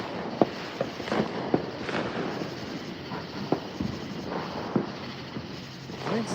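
Fireworks crackle and pop at night on the Fourth of July, a steady run of scattered bangs from nearby and farther off over a constant rumbling background.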